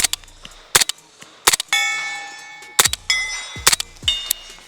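Airsoft gun fitted with a MAWL laser firing through a magazine: sharp, loud single shots in an uneven rhythm, with metallic ringing tones lingering between some shots.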